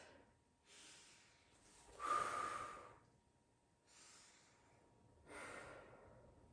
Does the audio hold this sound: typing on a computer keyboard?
no